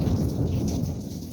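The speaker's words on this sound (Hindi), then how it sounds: "धमाकेदार बिजलियाँ गरज रही है" Thunder rumbling through heavy monsoon rain in the hills, a dense low roar of downpour and thunder running steadily and fairly loud throughout, with no voices.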